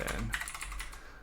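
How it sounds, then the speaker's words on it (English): Brief, quick typing on a computer keyboard, a light patter of key clicks, close and fairly quiet with no voices. "Let's type that in."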